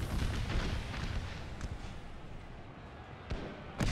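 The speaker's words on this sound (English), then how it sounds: "artillery bouncing in, hitting the New York" Artillery fire in Napoleon Total War with the Gettysburg ACW mod, Confederates attacking Culp's Hill: a continuous rumbling barrage with a few sharper booms near the end.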